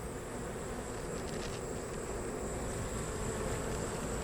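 Honey bees buzzing around an opened hive during an inspection, a steady faint drone of many wings with a few brief louder passes near the microphone.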